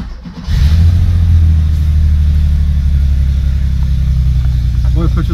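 A Porsche 911SC's flat-six engine cranks and catches, then settles into a loud, steady idle with a deep rumble that holds, along with a few slight revs, close to the microphone.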